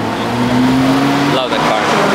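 A Koenigsegg CC850 hypercar drives on a race track during a track day, its engine a loud steady tone that rises in pitch and then cuts off, with people talking nearby.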